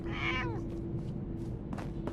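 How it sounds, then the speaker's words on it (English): A cat in Fallout 4 lets out one clear, close meow near the start, followed by fainter, softer game sounds over a steady low ambient hum. "Hey, kitty cat."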